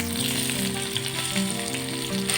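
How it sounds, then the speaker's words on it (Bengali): Large onion slices deep-frying in plenty of oil for a mutton korma, a loud, continuous close-up sizzle and bubbling with no talk. "এবার একটি বড় সাইজের পেঁয়াজের স্লাইস নিয়ে একটু বেশি পরিমাণে তেল দিয়ে ভালো করে ভেজে নিচ্ছি।"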